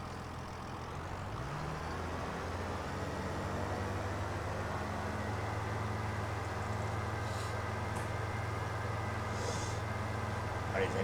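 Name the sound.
tractor engine idling in a farming video game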